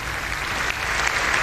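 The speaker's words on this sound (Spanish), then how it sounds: "tenemos al Papa aquí aplaudido de pie" Standing ovation for Pope Benedict XVI in the German Bundestag: dense, continuous clapping from a large crowd fills a big hall, steady and loud throughout with no voices standing out.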